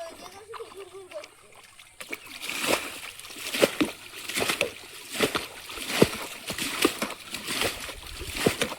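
Water being bailed out of a pond by hand to catch fish, repeated splashing scoops landing in an irregular rhythm, close and fairly loud, with a voice talking over it.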